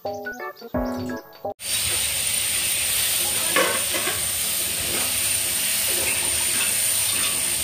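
Ingredients such as capsicum, cardamom, cloves, raisins, cashews and almonds frying in ghee in a pot give a steady, loud sizzle and hiss that begins abruptly after a brief burst of music and holds throughout with slight stirring.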